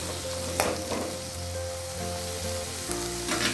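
Chopped tomato sautéing with onion in a pan for a Tamil ladies finger puli kulambu, a steady loud sizzle with occasional stirring scrapes and clinks, no voices.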